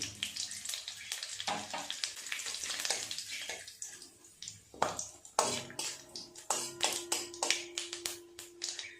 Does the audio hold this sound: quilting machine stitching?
no